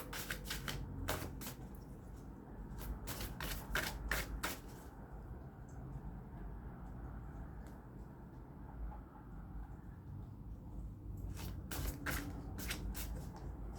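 An oracle card deck shuffled in bursts of quick, crisp papery riffles, a pause of soft rustling in the middle, then another run of riffles, quiet and close with no speech.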